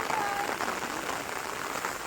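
Monsoon rain falls steadily in Sanjay Gandhi National Park, Borivali, near flowing water, a dense even hiss of drops on surfaces lasting the whole moment with no talk.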